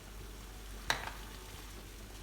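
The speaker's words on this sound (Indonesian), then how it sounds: "Rebus air sampai mendidih." Salted water boils in a cooking pot, a steady soft hissing and bubbling wash that stays even throughout, with one faint clink partway through.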